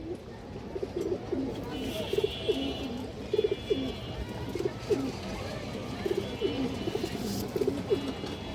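Pigeons coo in repeated soft bursts, close by and fairly regular, with a faint high whine underneath and no clear talk.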